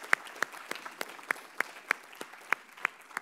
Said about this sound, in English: the members of the Griffin Circle, who should get a round of applause